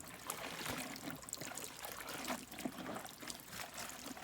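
Tie-dyed fabric is hand washed in warm, sudsy water with detergent, giving continuous sloshing, trickling and splashing close by, with no voices.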